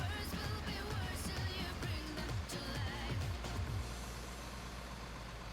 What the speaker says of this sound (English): The truck on the track.